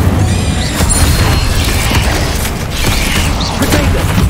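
An Incendio fire spell is cast in the game Hogwarts Legacy, giving a loud, dense burst of magical effects with rumbling low booms and mechanical crackle that holds steady for several seconds.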